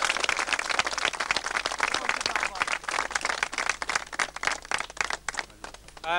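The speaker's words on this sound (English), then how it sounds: "he deserves a round of applause for that" Dense crowd applause and clapping for a road bowler at an Irish road bowling tournament in Cork, a continuous outdoor roar of many hands that thins slightly toward the end.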